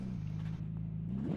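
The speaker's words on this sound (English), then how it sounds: "That car sounds so weird in chase cam." A GT3 Gen2 race car engine in a racing sim at the Montreal circuit, heard from the chase camera as a steady, buzzy drone that holds nearly constant pitch and swells slightly at the end.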